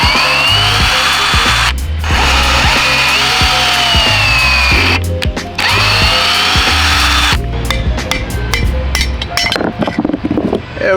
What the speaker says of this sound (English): You just drill out the bushings